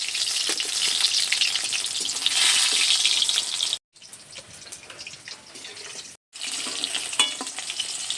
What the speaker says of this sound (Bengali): নেড়ে চেড়ে সুন্দর করে পকোড়াগুলো ভেজে নিয়েছি।